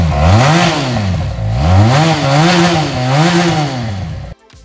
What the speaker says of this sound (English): The power delivery is brisk, fierce, and pulsating, with an engaging soundtrack similar to a four-cylinder machine.